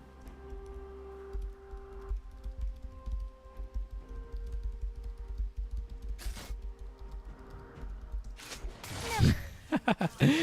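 Computer keyboard typing clicks away under game audio with steady tones and music, ending in a louder burst of noise near the close.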